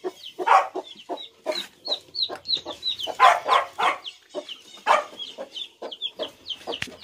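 Chickens on a small farm cluck and chatter in a steady run of short calls, fairly close, with several hens overlapping and no talk.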